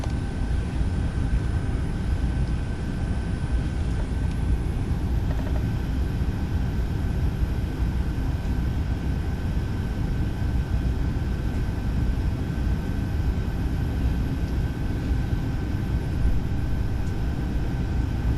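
Steady engine drone inside the cabin of a Boeing 757 airliner in flight, a constant low roar with a faint steady tone above it, unbroken and even throughout.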